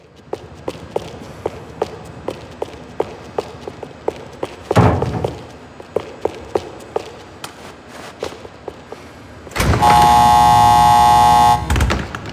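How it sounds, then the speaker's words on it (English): Security doors in the Max Payne 3 video game, with a loud thud near the middle and a sustained harsh electric buzz toward the end, over steady footsteps and game ambience. "More goddamn security doors."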